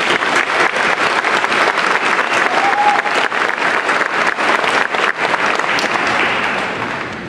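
Audience at a 2013 graduation ceremony applauding the co-valedictorians, a loud sustained burst of many hands clapping that fills the whole stretch, with a brief whistle partway through, tapering only slightly at the close.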